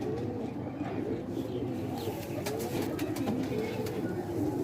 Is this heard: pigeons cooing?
yes